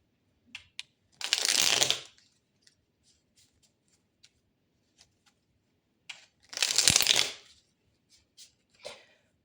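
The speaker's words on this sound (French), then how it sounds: "On va aller tirer 3 dernières cartes pour vous" Tarot cards are shuffled in two brisk riffling bursts, close and crisp, separated by quiet stretches of small clicks and taps as the cards are handled and drawn.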